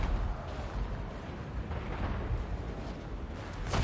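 Rattling guns fire in Total War: Warhammer 2, a dense, continuous roar of rumbling gunfire and blasts at steady loudness, with a sharper burst toward the end.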